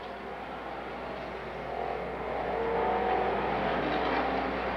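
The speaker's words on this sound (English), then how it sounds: "Tim Hintz working his number one car into the fourth spot now" Super stock race cars at Golden Sands Speedway in Plover, Wisconsin, a dense, continuous roar of several engines in the distance, swelling louder midway as the pack comes nearer, with no talk over it.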